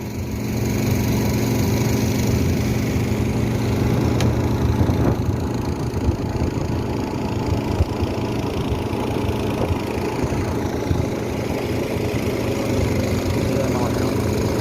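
A Thai-Lao longtail boat motor sets off on the Mekong near Ban Khon Don Det, droning steadily and loudly from up close for the whole stretch, with faint voices underneath.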